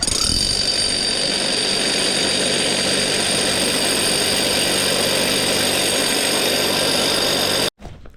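Cordless battery drill boring into fresh granite for a retaining wall, a loud steady whining motor drone with grinding bite held continuously for about seven and a half seconds before stopping abruptly.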